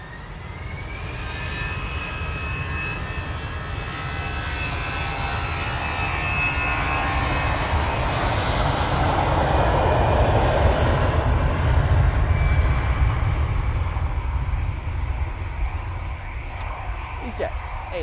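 An Emirates airliner's jet engines at Manchester Airport, a broad roar that swells gradually and peaks midway before easing, with a rising whine early on and a person talking over it.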